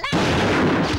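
Gunshot fired at a crow in a Tamil film comedy scene: one abrupt, loud blast that rings out with a sustained, booming tail, close and dominant.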